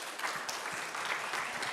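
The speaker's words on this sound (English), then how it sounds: "I think we all owe them a great hand of applause and appreciation." Applause from the attendees of an annual meeting, honouring council members, as a dense, even wash of clapping that holds steady throughout, with no talking over it.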